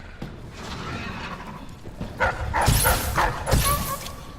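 A dog in the video game Dishonored gives a few short barks and whines that stand out over low game ambience, fairly close and moderately loud.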